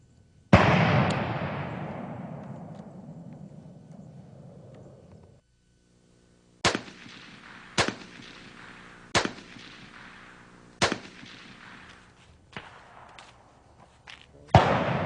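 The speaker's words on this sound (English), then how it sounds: "And we'll reshoot the rifle to demonstrate that we have maintained our original zero." An Accuracy International precision rifle fires on a range: one loud shot with a long rolling echo, then after a pause a series of sharp, evenly spaced shots, each with a short ringing tail.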